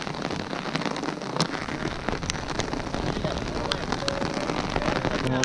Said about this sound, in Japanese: もうね、大雨。 バケツひっくり返してるわ、これ半端ない